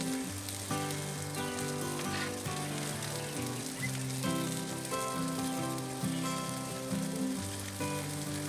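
Bacon-wrapped venison jalapeno poppers sizzle steadily on a cooker as they are taken off the heat. The frying crackle is continuous, with faint clinks underneath and no talking.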